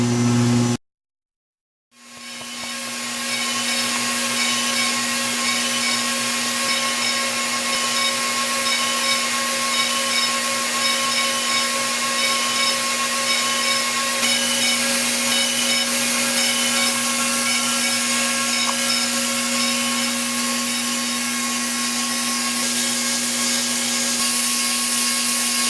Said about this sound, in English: At any speed, the machine maintains constant amount of yarn and constant tension throughout the entire test.